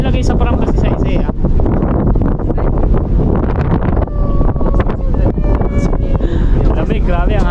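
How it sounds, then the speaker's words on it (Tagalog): Cold, strong wind buffets the microphone on a ferry ride at Manly Wharf, a steady loud rushing roar with gusts, and voices talk beneath it. "Lamig, grabe ang hangin."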